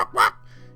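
A little green dog-like wormling dragon barks in a garden, one sharp, close yip followed by a short whimpering tail.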